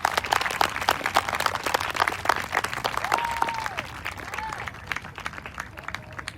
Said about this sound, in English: a round of applause for all your guests here tonight